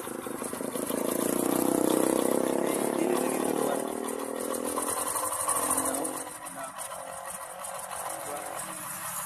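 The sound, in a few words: motorcycle engine running smoothly after repair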